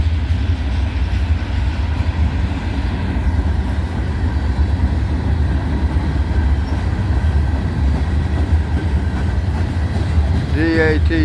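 Freight cars of a passing train, including tank cars, rumble steadily at close range for the whole stretch, with a brief tonal wavering sound entering right at the end.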